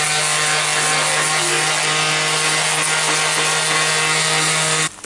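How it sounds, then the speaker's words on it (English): A power sander fitted with 80-grit paper grinds grime off a pipe, a loud, steady, close-up roar of abrasive hiss over a constant motor hum that runs without a break and cuts off abruptly just before the end, with no talking. "Here you get your trusty sander, and obviously just sand all the shit off."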